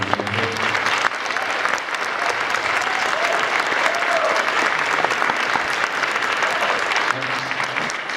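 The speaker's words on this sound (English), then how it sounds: "Andrew, come out here so we can give you a round of applause." Steady, dense audience applause fills a jazz camp concert hall, a sustained wash of clapping from a sizable crowd that holds level throughout, with brief voices or music edging in at the start and end.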